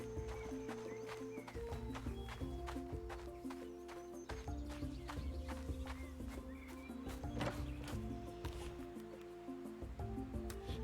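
A horse in the farming video game Roots of Pacha neighs and clip-clops over layered game music, with hoof taps and short whinnies scattered through the steady tune.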